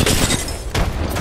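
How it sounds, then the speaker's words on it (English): A grenade in Apex Legends detonates in a loud, dense boom that fills the short moment, with a second swell of blast noise close behind. "Throwing grenade."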